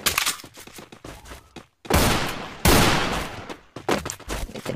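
An MP5 submachine gun in Free Fire fires in rapid bursts, with short choppy volleys, a brief pause, then two longer sustained streams of loud gunfire and a few scattered shots at the end.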